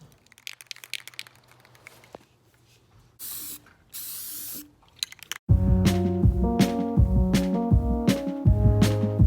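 Krylon flat white spray paint hisses from an aerosol can in two short bursts, followed by louder clattering and handling noises nearby.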